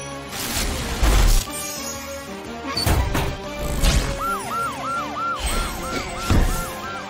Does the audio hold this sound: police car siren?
yes